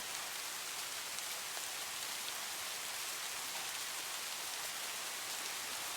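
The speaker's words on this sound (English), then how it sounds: "This is the kind of rain I like listening to when it rains outside." Steady, soft video-game rainfall hisses evenly throughout, a constant gentle patter with no other sounds.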